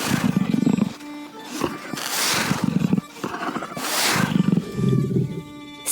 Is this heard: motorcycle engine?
no